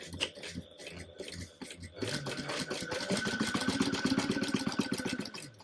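A sewing machine runs steadily while stitching a large piece of fabric during a Mookibii plush toy project, its motor humming with a rapid needle chatter that grows louder and more continuous after a short opening burst.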